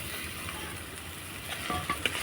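A coconut and sugar filling cooks in a pan with a soft, steady sizzle, and a few light scrapes of stirring come through near the end.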